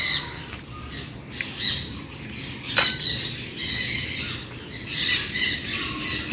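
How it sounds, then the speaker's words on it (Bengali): Birds chirp and squawk outdoors, with several sharper calls standing out above a steady background of twittering. "সঙ্গে কিন্তু পাখির কলরব শোনা যাচ্ছে বেশ ভালো"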